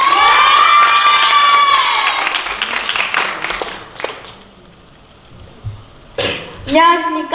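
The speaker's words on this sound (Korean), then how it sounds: "큰 박수로 맞이해 주시기 바랍니다" An audience at a student project presentation contest cheers and claps loudly, with shouts over the clapping, then fades to quiet before a voice speaks.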